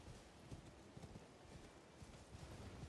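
Steady clip-clop of horse hooves at a quick, rhythmic gait in the video game Elden Ring, close and continuous over a low background hum.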